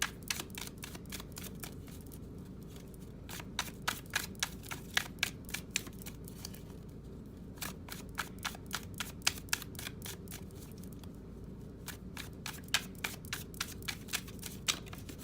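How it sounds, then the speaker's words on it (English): A tarot deck is shuffled close up in quick riffling bursts of crisp card flutters, separated by short pauses, quiet and alone. "All right, let's finish shuffling for you."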